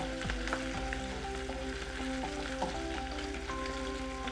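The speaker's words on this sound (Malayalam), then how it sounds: "അതെല്ലാം ചേർത്തിട്ട് സ്റ്റർ ചെയ്ത് തുടങ്ങാം." Mushroom and vegetable mixture frying in a pan and being stirred, a steady close sizzle with scraping and clinks of the utensil running throughout, loud and alone without talk.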